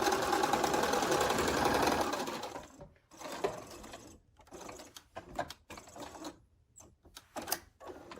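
Quilt pieces run through a sewing machine in a fast continuous whir for a couple of seconds, then give way to short stop-start bursts of stitching separated by quiet pauses and handling noises.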